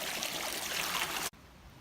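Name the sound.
stream water flowing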